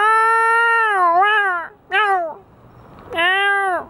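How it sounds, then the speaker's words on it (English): A cat meows several times close up, loud drawn-out cries with wavering pitch and a short pause between calls. "you see that ferocious feline?"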